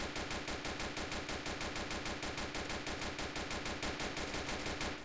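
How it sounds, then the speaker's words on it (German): Rapid automatic gunfire in a police video game, a continuous run of tightly spaced loud shots with an even rhythm and no pauses. "dann wird geschossen."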